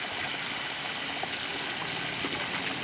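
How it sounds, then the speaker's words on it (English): A garden hose running water onto an apricot tree, a steady, even hiss of spray that stays close and constant for the whole stretch, with no voices. "put this over here so I can be watering the apricot while I'm talking"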